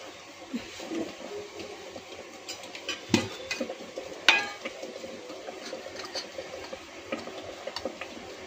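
Spices fry in oil for pav bhaji masala, a faint soft sizzle with occasional clicks of a spoon against the pan and two sharper knocks.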